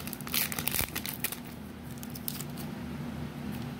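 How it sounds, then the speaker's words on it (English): A Pokémon Burning Shadows booster pack wrapper crinkles and tears open at close range, with a sharp rip near the start and then quieter crinkling and rustling. "our second Burning Shadows pack we've ever gotten to open"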